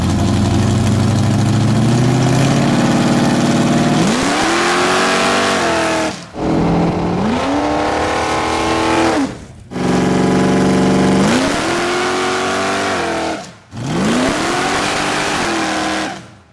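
A race car launches repeatedly on an airport runway, its engine roaring loud and close as it revs up through the gears in four long pulls, each cut off by a brief drop before the next surge.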